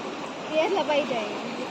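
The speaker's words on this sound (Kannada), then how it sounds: "ಏತು ನೀರು ಉಂಟು" Flowing stream water runs in a steady, close rushing gurgle, while people talk over it.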